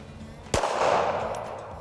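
A Rock Island Armory STK100 pistol fires a single shot at an outdoor range. The report is loud and sharp, with a brief ringing tail after a quiet lead-in.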